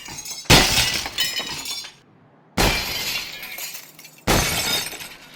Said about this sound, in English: The glass breaking effect is not the same as the glass in Half-Life Alyx.